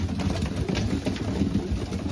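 Racing pigeons crowd around a winter feed of corn, with a steady, close rustle of pecking and shuffling plus soft cooing, over a constant low engine-like rumble.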